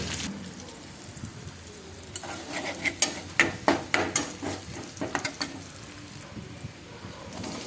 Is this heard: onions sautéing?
yes